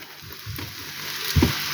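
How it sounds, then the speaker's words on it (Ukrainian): Flour-coated eggplant slices go into hot oil, giving a soft frying sizzle with a louder burst of spatter near the end, close and without talk. "в гарно розігріту олію викладаємо баклажани"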